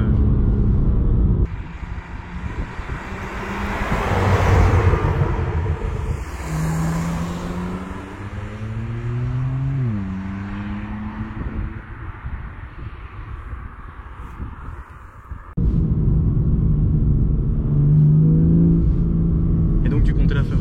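BMW M2 Competition with a 410 hp engine and Akrapovic exhaust, a loud close idle that swells into revs with rising and falling pitch, then settles back to a steady rumble, with people talking over parts of it.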